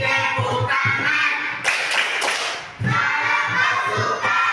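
A group of schoolchildren sing together in a classroom and break into a quick cluster of loud, sharp hand claps mid-song, then carry on singing.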